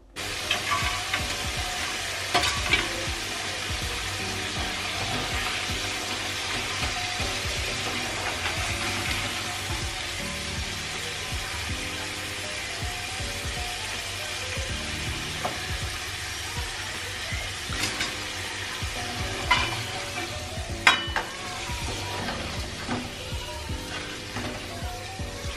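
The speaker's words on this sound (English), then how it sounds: "I'm obviously deep frying them, so there's so much oil to them." Sliced potatoes deep-fry in plenty of oil, giving a steady, close sizzle with scattered pops and crackles throughout, alone and with no talking.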